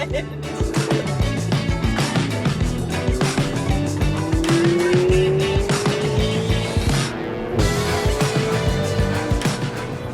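A car driven fast on tiny winding roads, its engine droning steadily and rising in pitch under constant road noise, with talk in the cabin over it.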